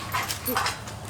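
A dog gives a brief, close whimper followed by a couple of soft yips over a steady background hiss, lasting about a second.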